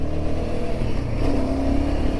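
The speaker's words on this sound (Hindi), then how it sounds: "साउंड आप देखो यार इसकी, मतलब हिमालयन ना भाई, ओ भाई क्या मशीन बनाई है।" Royal Enfield Himalayan 450 single-cylinder motorcycle engine running loud and close, a steady throaty drone with a slight rise in revs partway through.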